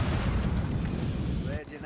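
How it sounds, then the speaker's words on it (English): A loud, dense video game explosion in a military shooter roars continuously with heavy low rumble, then cuts off abruptly near the end, leaving a faint whine and a brief voice. "Explosion sound intensifies."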